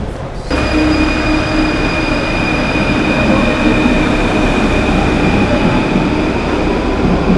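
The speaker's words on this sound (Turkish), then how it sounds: "İlk defa metroyu kullanıyoruz." A Paris Metro train rumbles loudly and steadily from inside a car, with a continuous roar, faint high whine, and rattling wheels.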